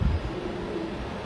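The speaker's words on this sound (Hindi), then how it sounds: "कबूतर हाथ में रखा हूँ" A pigeon held in the hand gives soft, low cooing at close range, a steady murmur with no other voices.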